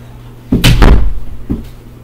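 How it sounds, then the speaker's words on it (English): An indoor door swings shut with one loud, close slam and a brief rattle, followed by a softer knock as it settles. "Here, let me close the door."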